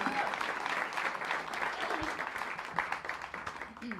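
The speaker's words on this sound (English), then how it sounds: "Thank you for clapping with us." Applause from a small audience at a live concert at Caffe Lena, a dense, steady patter of many hands clapping for about four seconds with faint voices mixed in.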